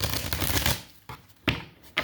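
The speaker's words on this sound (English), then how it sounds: "I'm going to go ahead and shuffle the cards" Tarot cards being shuffled by hand make a brief papery riffle followed by a few sharp clacks as the deck is squared, close and fairly loud.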